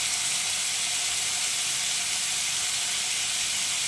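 Potato, peas and cauliflower fry in two spoons of oil in a pan, giving a steady, close, even sizzle and hiss with no talking.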